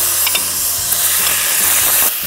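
Salmon pieces hit a pan with a few drops of sesame oil and sizzle in a loud, steady frying hiss, with some scraping and stirring clatter underneath.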